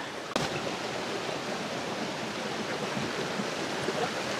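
Water rushing steadily at the top of Catmon Falls in Magallanes, Cavite, a continuous broad roar at moderate level, close by, starting after a brief bump.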